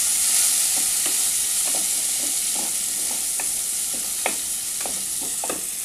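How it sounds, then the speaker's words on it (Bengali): Chopped onion frying in a pan for crab curry, stirred with a series of scraping strokes over a steady, close sizzle; no voices. "এবার আমি দিয়ে দেব কুচানো পেঁয়াজ, আবার আমি নাড়াচাড়া করে নেব"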